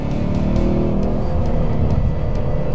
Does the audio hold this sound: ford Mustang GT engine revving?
yes